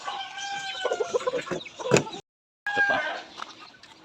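Laying hens cluck busily at feeding time on a backyard farm, a nearby chorus of clucks and calls with a short gap, while a person speaks briefly.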